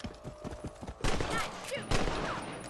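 Rifle shots ring out at rabbits in the Western game Red Dead Redemption, a couple of sharp cracks over hoofbeats and ambient game sound, with no voices.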